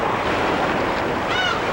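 Rough sea waves break and wash steadily over coastal rocks, a dense continuous roar of surf with wind noise on the microphone and no voices.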